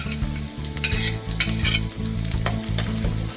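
Onions hit hot ginger-chili paste in a pan while cooking choley, crackling and sizzling loudly as a spoon scrapes and stirs in quick strokes, with a steady low hum underneath.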